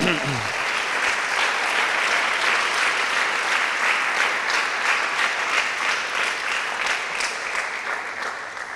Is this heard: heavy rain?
no